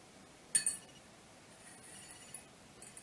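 A magnet set against a glass of water gives two quick bright clinks near the start, followed by fainter scattered taps and small rattles against the glass in a quiet room.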